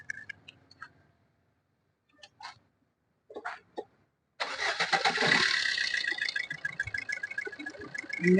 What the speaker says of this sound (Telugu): ఇంజన్ కూడా బీటింగ్ బాగానే ఉందండి.